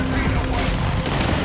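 LMG fire from the video game Starfield roars as a short, loud, continuous burst of automatic shots, a dense unbroken rattle filling the brief moment.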